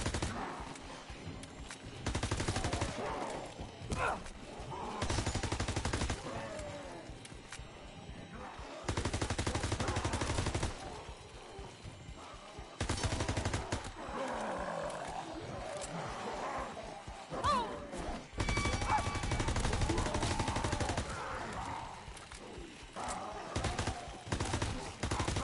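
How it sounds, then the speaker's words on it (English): Rapid automatic weapon fire in the World War II shooter Call of Duty: WWII, with bursts of shots that keep going while the gun reloads. The bursts come in loud clusters separated by quieter gaps, and a voice talks over much of the firing. "The weapon's still firing, even though you're seeing the animation of it reloading."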